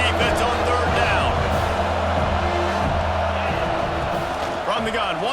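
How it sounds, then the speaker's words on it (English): College football stadium crowd roaring and cheering on a third-down defensive play in a USC versus Minnesota game, a loud sustained wash of noise under a commentator's voice. "Decibels rising as the crowd gets behind this defense on third down."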